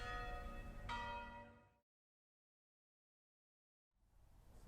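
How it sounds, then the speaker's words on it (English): A church bell in Rome rings out loud with a bright metallic tone, sustained for under two seconds before cutting to silence; faint ambient noise returns afterward. "The church bell signaled the end of a great meal"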